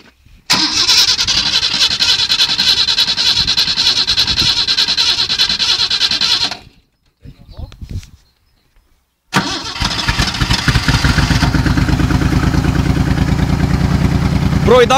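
A Ford Taunus 2.3 Ghia car engine roars loudly for several seconds, cuts out into near silence, then starts again and runs hard with a rough, throbbing rumble.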